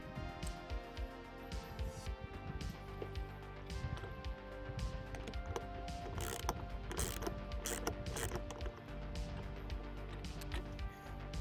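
A clamp for a bed cover on a 2024 Ford Maverick XLT is tightened down with a run of quick ratcheting clicks and mechanical rattles, close and fairly quiet, growing busier partway through.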